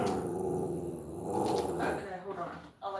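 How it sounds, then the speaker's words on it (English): A dog growls low and rumbling with a few muffled barks close by, while a person talks over it. "See, he barks. It makes a sound."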